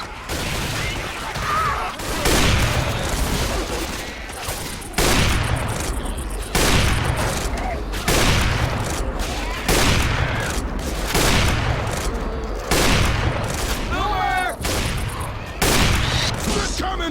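Gunfire in the zombie shooter Left 4 Dead 2 comes in loud, repeated bursts every second or two, dense volleys of shots with occasional voices mixed faintly beneath.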